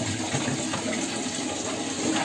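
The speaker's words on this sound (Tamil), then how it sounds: "தண்ணி வேகமா வருது." Kaveri river water rushing fast from a tap or inlet in a village as a pot is set beneath it, a steady loud broadband gush with no voices.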